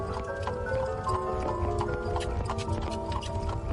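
Hooves of a horse clip-clop steadily at a walk, close and continuous, with a busy mix of other background sound around them.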